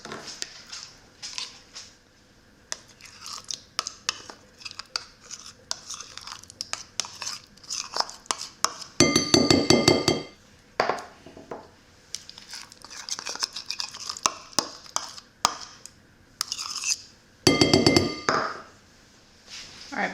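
Pumpkin puree, 100% pure rather than pie mix, added to a separate bowl and mixed for pumpkin cheesecake bites, with irregular scraping, tapping and clinking of utensil against bowl, two louder bursts of stirring, close up, no talk.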